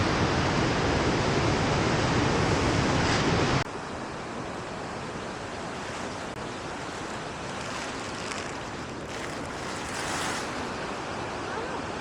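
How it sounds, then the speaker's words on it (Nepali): Steady, powerful roar of a rushing mountain river on the trail to Tilicho Lake in Manang, Nepal, fills the whole clip, loud and broadband, dropping slightly in level after a few seconds but never pausing. "खोलाको आवाज हेर्नु सुन्नु है"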